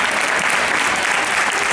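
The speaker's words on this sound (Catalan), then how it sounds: "un bon aplaudiment per aquest grup de patinadors del grup de Tona" A crowd gives sustained, dense applause for a group of roller skaters from Tona at a performance, steady and loud throughout.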